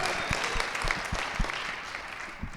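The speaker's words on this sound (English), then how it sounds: "That was me just fishing for a little more applause." A live audience applauds at a talk, a moderate patter of clapping hands filling the room, fairly close and continuous for a few seconds with no speech over it.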